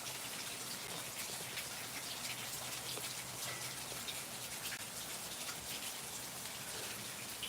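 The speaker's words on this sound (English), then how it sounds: "Boy, the rain's really coming down here" Heavy rain pours steadily onto an outdoor patio, a dense, even hiss of drops with no breaks, moderately close, with no talking.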